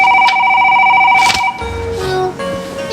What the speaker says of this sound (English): And then my phone started to ring again.